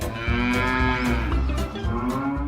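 A cow on a farm moos loudly and close up, one long drawn-out low call that fills the whole moment.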